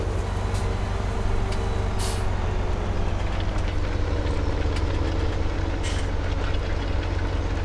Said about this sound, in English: that is the tractor with the small cultivator